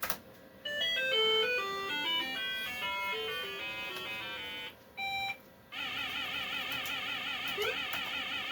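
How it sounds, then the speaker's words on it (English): Pac-Man arcade game music and effects play from a Hyundai Super-286C computer: a bright beeping melody, a short pause, then a warbling siren-like loop with chirps, fairly faint and with no voices. "Looks like we're going to play Pac-Man."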